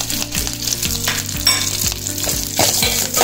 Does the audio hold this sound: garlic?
yes